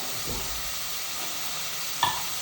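Tomato fries with fish curry masala in a pan, giving a steady broad sizzle throughout, broken by a soft stir and a brief sharper clink near the end.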